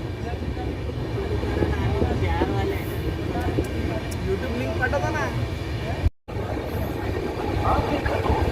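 The 12336 Bhagalpur SF Express runs from LTT toward Nashik, heard from inside a sleeper coach as a steady, loud rolling rumble with rattling. Faint voices sit in the background, and the sound drops out for a moment near the end.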